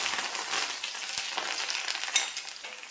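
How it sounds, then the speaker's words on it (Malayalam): Ginger and curry leaves frying in hot oil for a mango chutney give a steady, close crackling sizzle with small pops throughout, and no voices. "ഇഞ്ചി കറിവേപ്പിലയും കൂടി ഇതിൻ്റെ കൂടെ മൂപ്പിച്ചിടുവാണേ"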